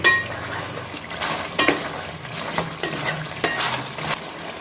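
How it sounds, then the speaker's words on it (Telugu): Chicken curry stirred in a pan once the water has cooked off, with repeated spoon scrapes against the pan over a steady low sizzle and no talking. "మధ్య మధ్యలో చికెన్ మూత తీసుకొని చికెన్ని కలుపుకుంటూ ఉండాలి"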